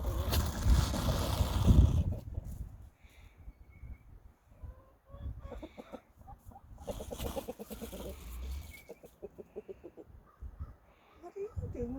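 Chickens cluck and a rooster calls close by, with fluttering and scuffling noises and some talking mixed in.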